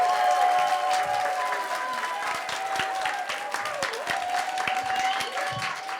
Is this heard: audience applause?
yes